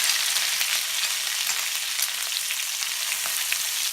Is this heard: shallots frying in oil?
yes